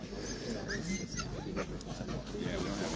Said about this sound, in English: Look, there's dogs barking over there.